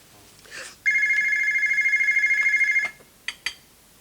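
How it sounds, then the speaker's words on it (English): A telephone rings indoors in a British sitcom scene: one sustained, trilling electronic ring of about two seconds, loud and close, followed by brief knocks or clicks. "Are you going to answer that phone or what?"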